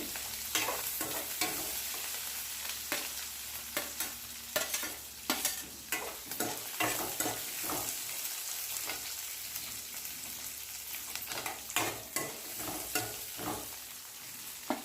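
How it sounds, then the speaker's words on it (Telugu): Onions fry in a pan while a spoon stirs them in repeated scraping strokes, each stroke a sharp clatter over a steady close sizzle, with no voices. "ఉల్లిపాయలు వేగినాయి."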